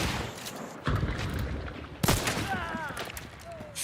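Gunshots from an Uppercut revolver ring out in the video game Hunt: Showdown, two sharp loud reports about a second apart, with faint whistling tones trailing after the second shot.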